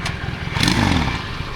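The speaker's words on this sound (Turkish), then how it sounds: "Sür oğlum motorunu bana ne benim kendi motorum var ya mis gibi" Motorcycle engine running close by, a brief steady rumble that swells slightly in the middle without any talk.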